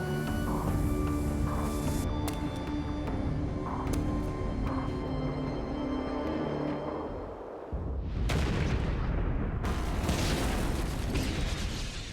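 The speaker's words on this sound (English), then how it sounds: "The high concentration room explodes" A heavy water high concentration room explodes in a basement: a dense, sustained roar fills the space, drops away briefly, then surges back with loud bursts and rumbling debris.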